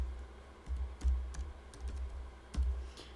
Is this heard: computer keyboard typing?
yes